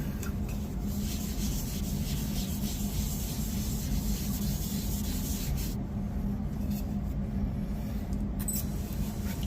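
Steady rubbing and scrubbing of a 20oz stainless steel tumbler with a magic eraser, continuous and close, with a gritty texture and no pauses or voices.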